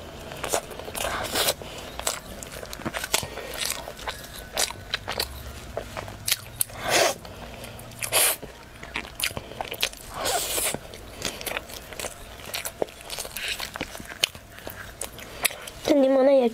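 Lemon-flavored food being bitten and chewed up close, with crunchy bites and scrapes scattered through, someone talking in between, and a brief louder sound near the end.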